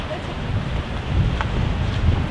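Wind gusts across a microphone at the seaside on the Alexandria coast, a steady low roar that swells slightly toward the end, with possible faint voices beneath.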